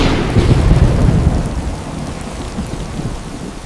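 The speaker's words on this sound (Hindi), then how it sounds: "बाहर मूसलाधार बारिश हो रही है, बिजली कड़क रही है और तूफानी हवाएं झोंपड़ी के कच्चे छज्जों को झकझोर रही हैं।" Heavy downpour with rolling thunder and gusting storm wind battering the rough eaves of a hut, a loud, dense, continuous roar with deep rumbles throughout.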